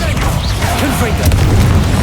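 The Confringo fire-blast spell explodes in the Hogwarts Legacy video game, a loud, dense booming burst under continuous game ambience, with a voice speaking over it.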